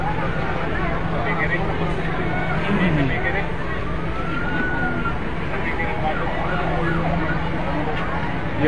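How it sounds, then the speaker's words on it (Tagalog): A backup fire engine arriving at a house fire in Sorsogon City sounds its siren, a wavering wail rising and falling under steady crowd and street noise while people talk throughout. "may dumating pa po na isang bumbero, back up"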